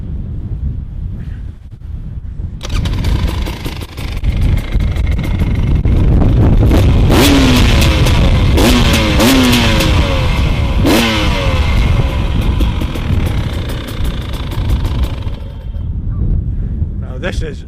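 A KTM 300 EXC TPI two-stroke supermoto motorcycle revs repeatedly up close, with sharp rising throttle blips over a rumbling idle and heavy wind buffeting the microphone.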